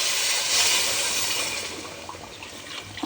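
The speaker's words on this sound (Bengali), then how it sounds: "এখন এই যে রেডি করা গরম পানিটা এটা ঢেলে দিব পরিমাণ মতো দিয়ে" Hot water pours steadily into a cooking pot with a bright, hissing splash that gradually softens and thins toward the end, close and continuous with no voices.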